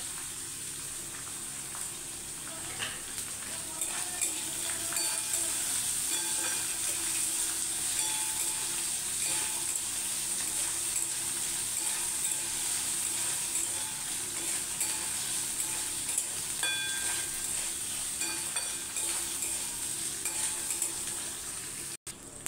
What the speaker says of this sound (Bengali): ছোলার ডালটা ভালো করে ভেজে নেব।